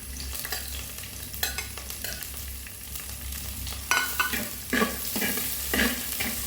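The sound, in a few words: onion and green chillies frying and being stirred in pan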